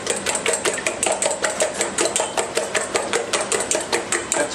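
A fork beats eggs briskly in a bowl for a tortilla, a fast, regular series of sharp clinking taps close by, steady throughout with no talking.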